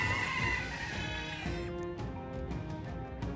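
A giant bird monster in the video game Metaphor: ReFantazio gives a loud, harsh crowing cry against rumbling game music, followed by sharp shrieking bursts as the sound thins out.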